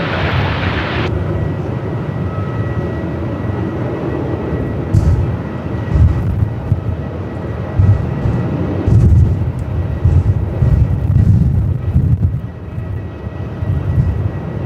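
Twilight 94 jet taking off from runway 34 at Melbourne Airport in 45-knot winds, a loud continuous engine roar with gusty wind buffeting throughout.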